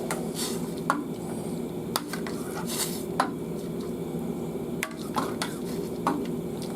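Ramen noodles are stirred with sesame oil in a bowl, a close, steady mix of wet squishing and utensil clinks against the dish, with sharper knocks at roughly one-second intervals.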